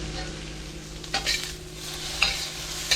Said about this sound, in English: We wanna get a nice sear on our tofu